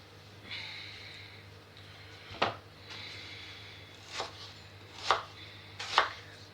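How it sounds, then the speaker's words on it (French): An onion is chopped into small pieces on a board for a spicy spaghetti sauce, giving four sharp knife strikes spaced irregularly over a steady low hum, close and fairly quiet, with no talking. "Donc nous coupons notre oignon."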